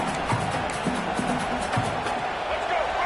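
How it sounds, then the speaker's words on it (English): Football stadium crowd during a college football game, a steady dense roar of cheering and noise held loud throughout, with a commentator's voice talking over it. "This crowd is trying to inspire this defense to make a big red zone stop."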